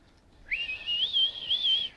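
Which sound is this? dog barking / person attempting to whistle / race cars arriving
person attempting to whistle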